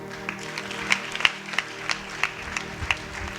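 A church congregation claps during a Hindi sermon, a thin stream of individual hand claps in an uneven rhythm, some louder close hits standing out over a low hum, with no talk.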